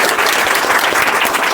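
Loud, dense clapping from a group of schoolchildren applauding their teacher, close and continuous throughout the short burst.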